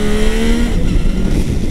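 A Yamaha Niken three-wheeled motorcycle pulls away in first gear on a road in Corsica, its engine roaring loud and close in a steady, rising drone with no voices.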